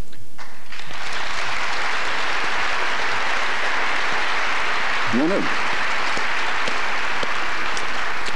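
Audience applause fills a lecture hall on Iraq and the war on terror, a steady wash of many clapping hands that holds loud and even throughout, with a short whistle-like call rising briefly partway through.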